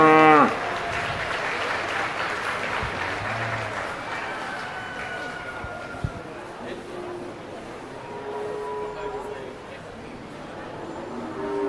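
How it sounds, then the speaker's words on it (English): Crowd applause at a steer show in a livestock ring, a burst of clapping that fades into the background while cattle moo intermittently and an announcer talks over the arena. "Let's have a round of applause for all of our final drive"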